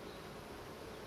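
Honeybees buzz steadily at an open hive during an inspection after package installation, while they rebuild comb cells. The drone is dense and continuous and stays close throughout.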